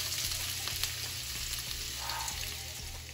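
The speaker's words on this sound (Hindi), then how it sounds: "ये स्टर फ्राई करनी है सब वेजिटेबल्स को" Vegetables and ginger are stir-fried on a high flame, giving a steady sizzle with light, irregular stirring taps. No one speaks.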